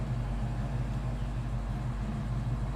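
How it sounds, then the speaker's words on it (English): A 1967 Ford Mustang with a 302 V8 idles steadily at close range, a low, even rumble that holds without change for a few seconds, with no talk over it. "Idling nicely."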